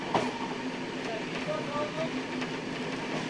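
A train pulls out of Stendal station toward Oebisfelde on the Wustermark–Rathenow–Stendal–Fallersleben line, giving a steady, continuous rolling rumble with faint tonal squeals and occasional clicks over the whole stretch.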